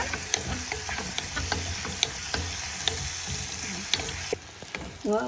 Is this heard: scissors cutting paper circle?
no